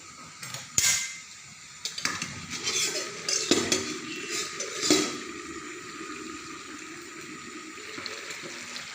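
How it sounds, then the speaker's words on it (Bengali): Lid lifted off a pot of simmering soybean and mixed vegetables, a few metallic clinks and scrapes over a low bubbling hiss, fairly close and quiet. "ঢাকনাটাকে তুলে নিচ্ছি।"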